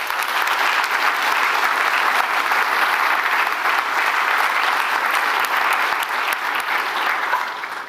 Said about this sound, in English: Let's give her a big clap anyway.